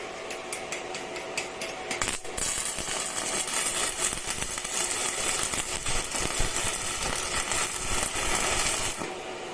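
A Fugu 250 MMA portable arc welding machine welds with a dense, crackling sizzle full of sharp pops, continuous and fairly loud for several seconds.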